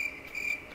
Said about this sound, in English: Don't put any cricket sound.